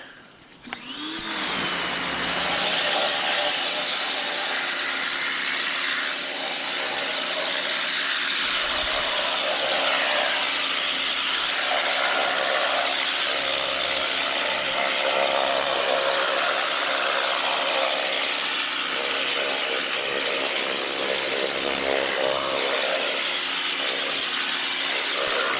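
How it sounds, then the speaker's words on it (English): A rotating drill brush cleaning something, starting with a click, then a loud, steady high whine and buzzing hiss running continuously for about twenty-five seconds close by. "Detail Geek likes to use his drill brush"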